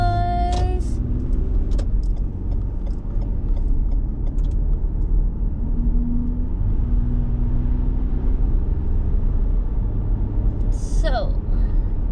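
A car cruising on a highway near Oxford gives a steady, close road and engine rumble throughout, with a few brief tonal chirps at the start and near the end.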